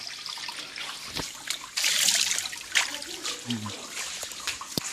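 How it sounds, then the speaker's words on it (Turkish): Water trickling and splashing in a flooded room where water has soaked up to the bed bases and ruined computers, with a broadband rush of flowing water and intermittent splashes close by. "Evet su buradan çıkıyor."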